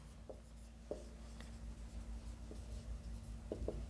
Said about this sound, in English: let me write here